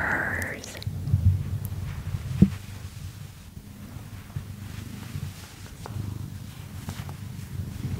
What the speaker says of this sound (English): Listen to some purrs.